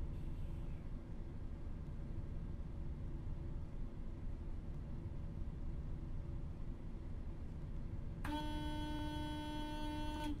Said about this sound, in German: Muss man erst hupen, damit es hier grün wird